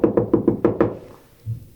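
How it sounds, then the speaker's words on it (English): Six quick knocks on a door late at night, an evenly spaced burst of sharp raps close by, followed by a faint dull thud after a short pause. "all of a sudden she heard a knock at the door"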